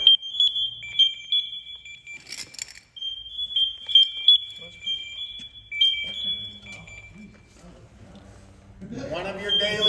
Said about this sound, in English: If we continue to watch this thing, what's going to happen to the pass alarm?